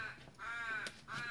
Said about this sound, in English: This is a friggin' bird. They always start when I start filming.